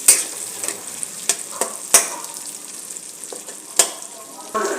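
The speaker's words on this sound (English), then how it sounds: "Now the onions are being fried. It is turning brown in color." Onions fry in a pan for chilli chicken, a soft bed of sizzle broken by sharp clacks as a utensil scrapes and stirs the pan.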